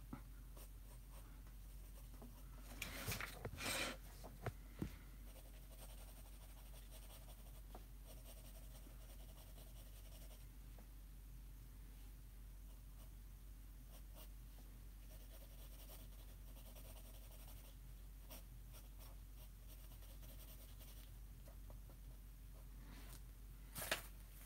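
Pencil writes on paper in quiet, soft, continuous scratching strokes, with a few brief louder scrapes and taps early on, then steady faint scribbling over a low background hum.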